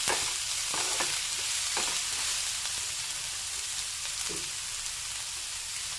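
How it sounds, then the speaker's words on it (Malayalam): Onions sauté with salt in a pan, a steady loud close sizzle broken by a few scraping strokes of the spoon as they are stirred. "അപ്പോൾ പെട്ടെന്ന് നമുക്ക് സവാള ഒന്ന് വഴണ്ട് കിട്ടും."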